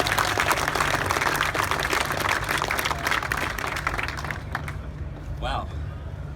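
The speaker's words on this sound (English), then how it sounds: "let's give them all a very big round of applause" Big round of applause from an audience at a Porsche 911 rally car auction event, dense broadband clapping that fades toward the end while people talk over it.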